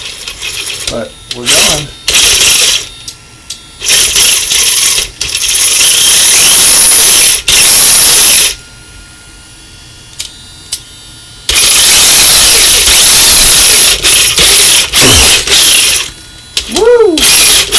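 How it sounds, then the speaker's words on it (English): The shift servo of a Ryft RC truck with a Hobbywing XERUN AXE R2 FOC brushless sensored motor whirs loudly in repeated bursts while the truck is driven, with short pauses between runs, rising and falling motor whines, and a brief spoken remark. "Our shift servo is a little loud,"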